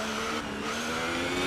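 An F1 race car in a video game brakes hard into a corner, a steady high engine whine with faint tire noise, continuous and fairly loud, with no talk.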